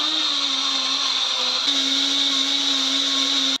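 An electric blender whirs steadily as it purées a papaya smoothie with coconut milk and a few drops of lemon juice. The motor hum is loud and constant, with no speech, then cuts off abruptly at the end.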